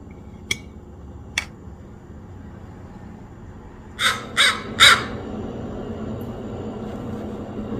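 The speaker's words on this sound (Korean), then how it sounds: "왜 저러는 거야, 까마귀" A crow caws three times in quick succession, fairly loud outdoors, after two sharp clicks earlier, over a low steady background hum.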